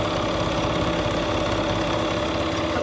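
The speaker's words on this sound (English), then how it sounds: "I'm going to go ahead and sew with my needle up" A sewing machine stitching with the needle up runs with a continuous, even mechanical whir and hum, steady and close with no pauses, and no talking.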